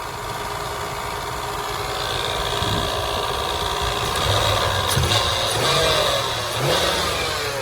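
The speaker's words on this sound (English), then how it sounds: "Smooth running little motor. She's quiet." A 1999 Toyota 4Runner engine runs steadily and fairly quietly up close, with a broad even hum that rises slightly midway as it revs a little, and no voices.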